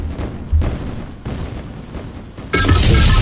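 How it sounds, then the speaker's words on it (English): Loud rumbling booms as a base is destroyed in the strategy game OpenRA, with a heavy blast swelling near the end and continuing, under game music and effects. "Wait, the explosion. There goes the base."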